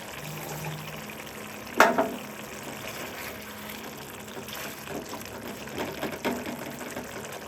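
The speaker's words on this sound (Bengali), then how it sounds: "মাংসটা ভালো মতো কষাবো" Chicken pieces frying with spices and a little water in a pan, a low steady sizzle with a couple of louder scraping stirs and splutters.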